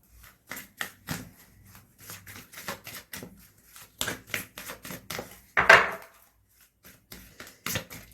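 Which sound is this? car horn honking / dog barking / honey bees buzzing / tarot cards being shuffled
tarot cards being shuffled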